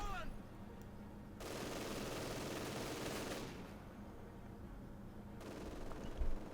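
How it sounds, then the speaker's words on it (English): Sustained rapid fire from an MG42 machine gun in Company of Heroes 2, a dense continuous rattle lasting a few seconds amid battlefield noise, fairly faint overall with a brief louder burst near the end. "I've got an MG42 opening up on me. Let's take a look at that MG42 firing animation and the sound effects."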